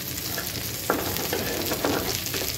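Onions with a little turmeric fry in a pan, a close, continuous sizzle broken by a few stirring scrapes.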